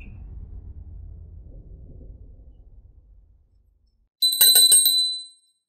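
A low murmur fades out, then a small bell rings once in a quick bright jingle after a pause.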